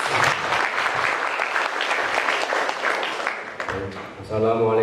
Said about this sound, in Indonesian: Tepuk tangannya guys.